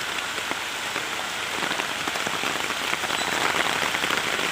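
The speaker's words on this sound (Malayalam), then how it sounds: "ഇതിപ്പോൾ എന്തേയാവോ ധനുമാസത്തിൽ ഇങ്ങനെ മഴ പെയ്യാൻ?" Heavy rain pours down steadily outdoors during the Dhanu month, a dense, continuous patter on surfaces that grows slightly louder toward the end, with no voices.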